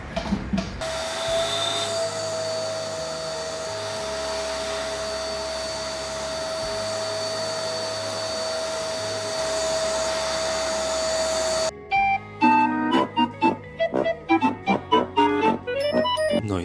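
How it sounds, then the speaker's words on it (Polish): A workshop vacuum cleaner with a dust bag attached runs with a loud, continuous whine, then stops near the end, leaving scattered clatter and knocks. "Niby to tylko podłączenie worka do odkurzacza, prawda?"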